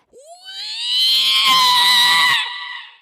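A person imitates a mole's blood-curdling scream with a rising, shrill, sustained shriek that swells loud for a couple of seconds, then tapers off.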